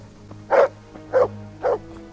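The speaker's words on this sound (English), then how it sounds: "What is the dog barking at?" Dog barking in the medieval game Kingdom Come: Deliverance: three distinct, evenly spaced mid-pitched barks close by over a quiet low ambient hum.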